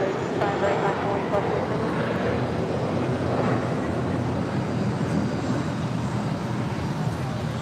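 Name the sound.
American Airlines A321 jet departing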